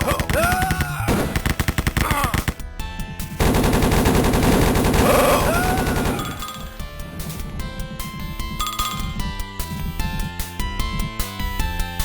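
Loud, sustained automatic gunfire rattles through a custom shooter map, with rapid bursts, metallic clinks and pings, a heavy continuous volley in the middle, then choppier shots trailing off.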